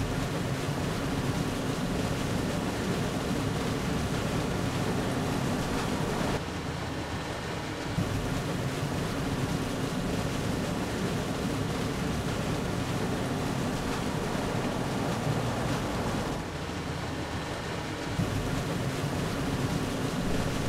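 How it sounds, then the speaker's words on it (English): Water pump running steadily during a well pump test, a continuous broadband rushing hum that holds level throughout with two brief dips, no talk. "He turns on the pump."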